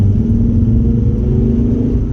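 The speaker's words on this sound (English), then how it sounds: "Gear change is good, nice and tight, pulls really well" A used diesel car with a turbo pulls hard under acceleration, a loud, close, steady engine rumble that holds throughout with no talk.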